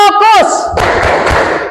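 Indonesian classroom doing a 'tepuk fokus' rhythmic clapping routine: a teacher's sung call gives way to loud, close group claps and thumps in a patterned beat from the students.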